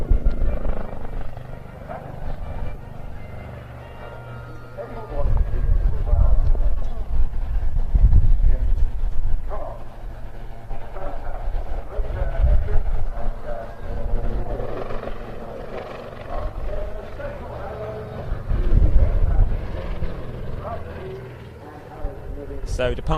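A display helicopter flies at the Bournemouth Air Festival, its rotor and engine roar rising and falling in waves from the distance while a commentator talks over it throughout.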